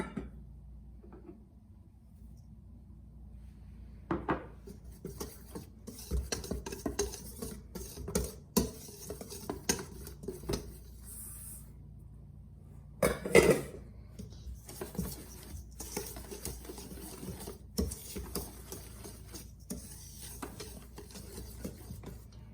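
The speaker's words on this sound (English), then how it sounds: "We're gonna put everything in our mixing bowl and whisk really well." Whisking cornstarch, flour and powdered milk in a mixing bowl, faint scattered taps and scraping clinks in an uneven rhythm, quiet and close with no voices.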